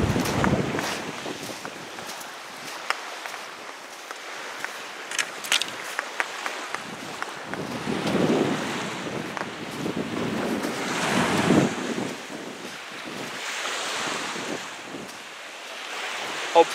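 Gusty wind buffets the microphone while ocean surf rolls and breaks on an East Coast beach, loud and continuous with surges of waves and no talk.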